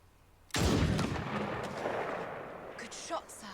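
Gunshot in a scene from The Crown episode The Balmoral Test: a single loud, sharp blast bursts out after a quiet moment, then rolls away in a long, echoing decay.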